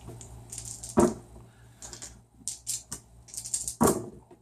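Small dice tumbling and clacking in a sound-dampening tray, muted taps and rattles in several short bursts, with two sharper knocks standing out, fairly quiet and close.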